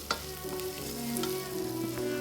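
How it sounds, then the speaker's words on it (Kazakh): Thin web vermicelli with salt fries in oil in a pan, giving a close, steady sizzle with small crackles and no voices. "паутинка вермишелін салып, тұз салып, қуыра бастаймыз"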